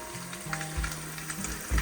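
Breakfast sizzles steadily in a cast iron pan on a Coleman camp stove inside a small shed, a close, continuous frying hiss with faint low hum underneath.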